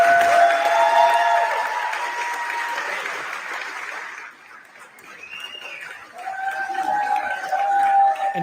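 Audience at a political event applauds and cheers, a dense crowd wash that fades midway and then swells again.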